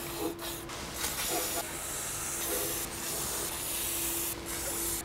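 Penetrating fluid hisses from an aerosol can onto rusty bolts of an E36 BMW M3 donor car, several close spray bursts with brief gaps between them.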